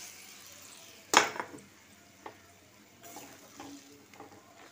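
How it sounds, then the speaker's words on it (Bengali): Soft bubbling and occasional clinks of a curry gravy simmering in a pan for an egg and pointed gourd korma, opened by a sudden loud splash-like burst followed by quieter stirring scrapes. "এবার ঝোলটা ফুটছে,"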